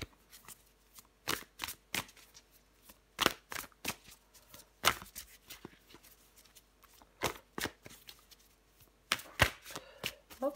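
Tarot cards being shuffled and drawn at close range: crisp, irregular flicks and snaps in short bursts against near silence, with no talking.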